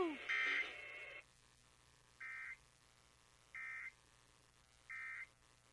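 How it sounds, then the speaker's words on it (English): A loud electronic tone sounds first, then three short, evenly spaced beeps of a national emergency alert system test repeat with pauses between them over a quiet background. "And that was some beeping."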